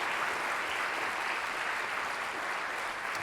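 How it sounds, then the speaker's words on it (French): Continuous applause from a conference audience, many hands clapping in a dense, sustained patter that stays steady and fairly loud for the whole stretch. "Un peu plus fort."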